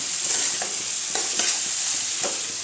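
Soybean chunks and vegetables for khichuri get stirred in a pot, a steady hissing fry punctuated by a few distinct scrapes of the spoon, close and with no talking.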